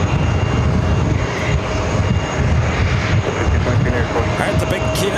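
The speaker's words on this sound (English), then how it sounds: "This flight coming in from Syracuse, New York, Delta Connection, flight 5436, CRJ at 900 LR" A Delta Connection CRJ-900LR regional jet arriving at JFK on a flight from Syracuse gives a steady, continuous engine roar, broad and even throughout at moderate distance.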